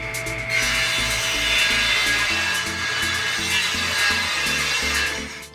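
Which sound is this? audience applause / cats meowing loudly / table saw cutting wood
table saw cutting wood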